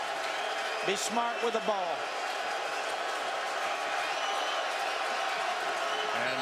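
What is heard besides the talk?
football stadium crowd noise, Boise State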